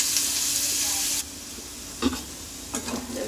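Onions, about one and a half cups, fry in a pan for a pomfret fish dopeyaja, giving a steady close sizzle that drops quieter partway through, with a few brief stirring scrapes after.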